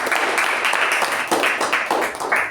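A room full of people clapping steadily at a Toastmasters meeting, dense and continuous throughout, fairly close and loud.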